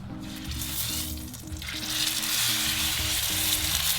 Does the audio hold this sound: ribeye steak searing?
yes